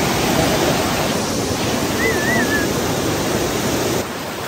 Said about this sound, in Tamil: பிகாஸ் தண்ணி ரொம்ப ஃபோர்ஸாக போகுது.